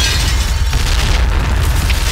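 Grenade blast in a video game: a loud, sustained low rumbling boom filling the whole moment, with no voices present.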